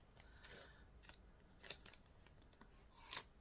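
Quiet, crisp snips of scissors cutting paper, three separate cuts spaced about a second apart in an otherwise hushed room.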